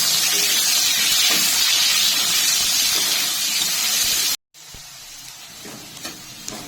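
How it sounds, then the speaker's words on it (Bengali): Potatoes fry in hot oil in a wok, meant for a chicken ghugni, giving a loud, steady hiss and sizzle that cuts off abruptly, then returns as a softer sputter with a few small pops. "ঘুগনিতে দেওয়ার জন্য আলু ভেজে নিচ্ছি"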